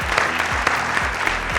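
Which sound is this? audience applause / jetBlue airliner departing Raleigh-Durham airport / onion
audience applause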